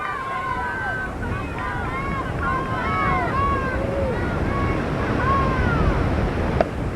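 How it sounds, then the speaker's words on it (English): Steady wind rumbles across an outdoor softball field during a high school game, a continuous low roar against the microphone with bird calls whistling above it. "wind just pulled that right out of play"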